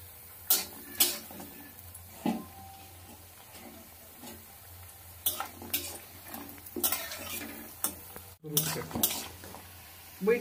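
Bori lentil dumplings frying in hot oil in a home kitchen pan: a quiet, steady sizzle broken by intermittent scraping and stirring clatters of a spatula against the pan, with no talking.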